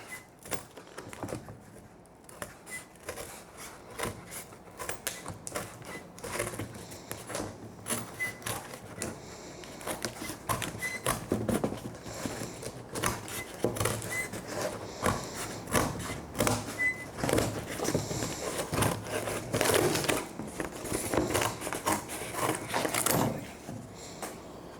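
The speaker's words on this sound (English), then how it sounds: "So we're almost done cutting the circle for the top." A wooden circle being cut out for the top of a giant pill bottle, heard as dense, irregular rattling and clattering of a tool biting into wood that builds louder toward the end.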